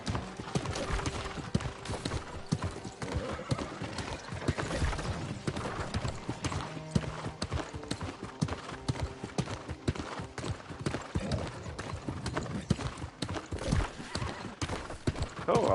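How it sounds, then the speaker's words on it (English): A summoned horse in the video game New World: Aeternum trots steadily with rhythmic clip-clop hooves and gives a neigh. The game sound continues without pause and is heard alone, with no speech. "Try to call the horse."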